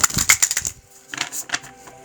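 A deck of tarot cards is shuffled by hand, a burst of quick papery riffling and tapping that pauses briefly and resumes in shorter clusters, close and fairly loud.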